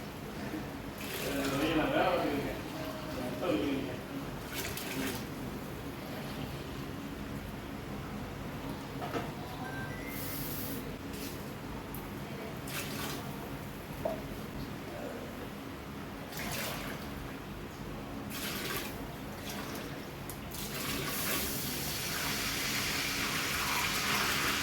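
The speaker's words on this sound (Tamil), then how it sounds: "தேங்காய் பால் வந்து ஊற்றப்போம்" Coconut milk pours onto a large batch of rice, 17 cups, for chicken dum biryani, a soft liquid gush over steady background noise with a stronger splash near the start, while someone talks throughout.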